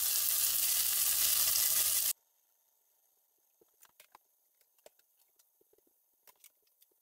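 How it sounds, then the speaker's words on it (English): Sausages, homemade beer bratwurst, hit a very hot skillet on high heat with a loud, steady sizzle for about two seconds, followed by quiet scattered crackles and pops as they brown. "Now we're gonna put them into a very hot skillet."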